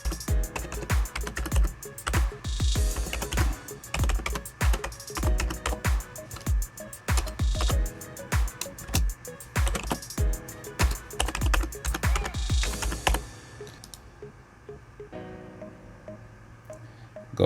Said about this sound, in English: we're going to type lowcook@gmail.com